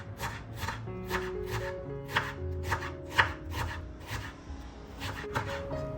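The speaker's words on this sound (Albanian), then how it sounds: "të cilat I presim imët" Two onions are chopped finely with a knife, giving a steady run of quick, evenly spaced blade strikes on a cutting board, close and crisp, with a soft tonal backdrop and no talking.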